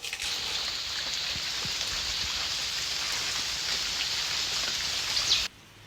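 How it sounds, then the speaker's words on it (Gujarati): Steady, dense rain patters continuously, a broad hiss of drops falling on surfaces, cutting off abruptly near the end. "અત્યારે વરસાદ ચાલુ જ છે"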